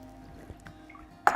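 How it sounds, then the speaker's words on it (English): Water pours into a pot for lentil dahl, a faint liquid trickle and drip followed by a brief louder splash at the end, heard close and alone. "I'm going to add 8 cups of water."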